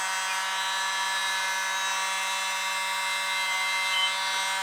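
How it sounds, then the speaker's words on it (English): A mini leaf blower used on contemporary fluid art pour leftovers, a steady, even whirring hum with a constant tone, close and unbroken throughout. "It's my mini leaf blower."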